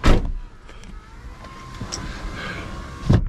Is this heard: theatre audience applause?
no